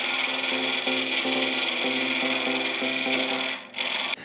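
A carbide square-edge cutter works spinning wood on a lathe, giving a loud, continuous scraping hum with a rapid, regular pulsing rhythm that stops briefly near the end.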